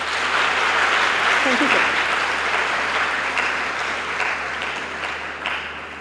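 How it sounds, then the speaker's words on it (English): Sustained audience applause at a university seminar, a dense, steady wash of clapping that slowly tapers over several seconds, with a brief spoken thanks heard beneath it. "Let's give him a big round of applause."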